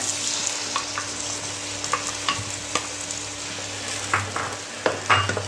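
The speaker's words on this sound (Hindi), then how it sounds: "अच्छी तरह हम देसी घी में इसे भून लेंगे" Soaked sabudana roasting in desi ghee with cardamom in a pan for Navratri kheer, a steady close sizzle broken by scattered spoon-stirring scrapes and clicks, with no voices.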